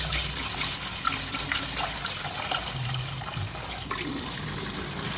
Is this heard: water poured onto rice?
yes